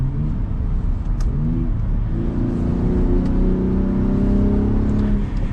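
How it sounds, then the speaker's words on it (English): A Ford Raptor V6 EcoBoost with its exhaust valve open drones loudly and close, the note shifting as the engine revs up and holds a steady raspy tone while driving. "Actually sounds really good with that exhaust valve opened up."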